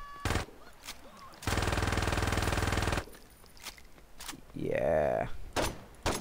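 Sustained automatic gunfire from a weapon in the video game Saints Row 2 bursts out for about a second and a half, loud and dense, among shorter shots and game noise, with a man's brief exclamation.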